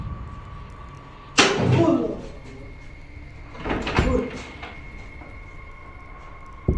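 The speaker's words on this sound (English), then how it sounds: "something pounds against the door and then rattles it, trying to get out" Something pounds hard against a locked set of doors and then rattles them, two separate bursts of thumping and clattering a couple of seconds apart over a steady background hum.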